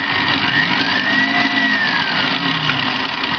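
A food processor motor whirs loudly and steadily at close range for a few seconds, its pitch drifting slightly, with no talking.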